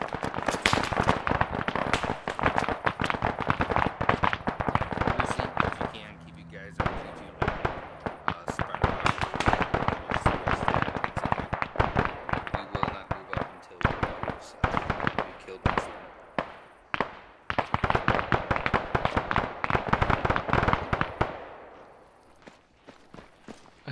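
Dense rapid gunfire from the military shooter game Arma 3, long strings of sharp close shots and bursts with brief lulls, continuing nearly throughout with occasional voices underneath.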